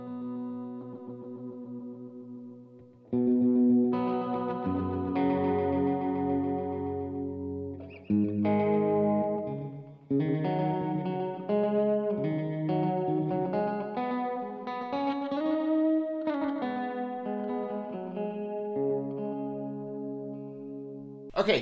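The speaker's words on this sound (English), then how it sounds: "there you can hear all the different delays and reverbs that this thing has" Electric guitar notes and chords ring out through the digital delay and reverb modes of a Source Audio Collider pedal, trailing echoes and washy reverb tails that blur each phrase into the next, with no talking.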